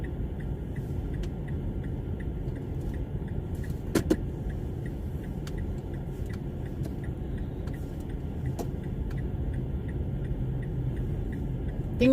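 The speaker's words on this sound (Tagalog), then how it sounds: "Tingnan nyo, ang daming mga sasakyan dito." Friday traffic near a shopping mall, a continuous low rumble of many cars passing, steady and moderately near, with faint ticking clicks above it.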